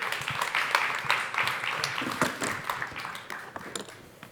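A seated audience at a startup award event claps and cheers to welcome a team onto the stage, a steady dense patter of many hands sustained throughout at moderate volume.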